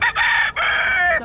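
A rooster gives a short, loud, nearby crow in two quick strained segments, with a faint clucking tail.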